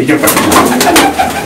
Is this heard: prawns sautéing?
no